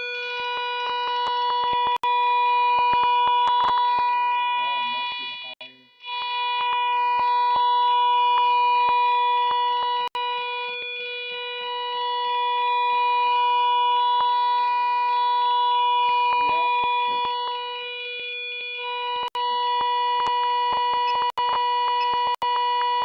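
A pulse-wave test tone from signal generation equipment holds a steady buzzy pitch with rich harmonics, its timbre shifting as the duty cycle changes, with brief dips and clicks along the way and no talk over it.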